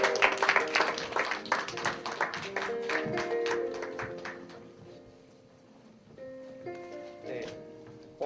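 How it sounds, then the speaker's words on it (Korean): An audience at a Korean church college-ministry worship service claps loudly for a few seconds. The applause fades into sustained musical tones and softer sounds. "더 크게 박수를 한 번 더 맞이해주세요."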